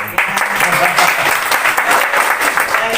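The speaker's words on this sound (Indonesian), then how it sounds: "Kasih tepuk tangan dong." Audience in a church service bursting into dense, steady applause that fills the whole stretch at close range, with a voice talking faintly beneath it.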